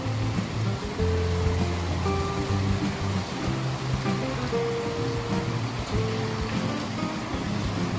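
First rain of the season falling steadily outside a home in Junagadh, a soft continuous wash of raindrops and running water under low hum and tonal household noise.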